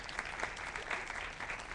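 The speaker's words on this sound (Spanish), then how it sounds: "Un aplauso de bienvenida para Jeremías." Welcoming applause at a Spanish-language literary conversation event, a steady patter of hand clapping from an audience throughout, moderately distant and even, with no voices on top.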